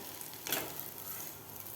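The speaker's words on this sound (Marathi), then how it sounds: "दोन मिनटातच आपली व्यवस्थित भजी तळलेली आहेत" Ridge gourd bhaji frying in hot oil, a steady soft sizzle with a brief louder crackle partway through.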